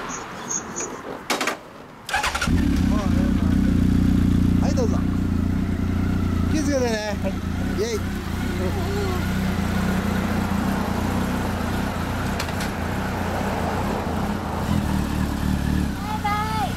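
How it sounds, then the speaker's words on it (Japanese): After a few brief voices, a 2008 Honda CB1300 Super Bol d'Or motorcycle with an Akrapovic exhaust starts and idles loudly up close, with revs rising and falling over a steady rumble. "あのエンジン音聞かして"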